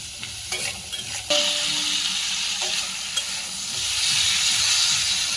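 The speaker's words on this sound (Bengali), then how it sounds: "আলুগুলো একটু হালকা ভেজে নিচ্ছি, হালকা একদম অল্প একটু নাড়িয়ে তুলে নিচ্ছি।" Potatoes lightly frying in a pan, turned with a spatula: a steady hissing sizzle with a few scraping stirs and clinks, close and fairly loud, growing a bit stronger toward the end.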